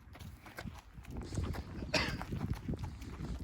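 A horse walks on a trail ride at Zion Ponderosa Resort, its hooves giving soft, irregular thuds and scuffs at low volume, with little talk.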